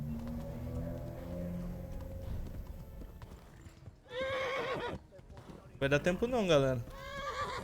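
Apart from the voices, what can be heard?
horse galloping and neighing in video game Kingdom Come Deliverance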